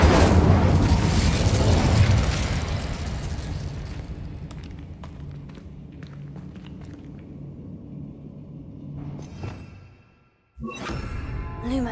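A roaring whoosh of flame from an Incendio fire spell in the Hogwarts Legacy video game, loud at first and fading into a low rumble with scattered crackles, then a brief silence before another burst.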